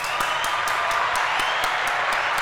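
A comedy club audience applauding as a comedian is introduced, a steady wash of many hands clapping with a few sharper claps standing out, close and continuous throughout.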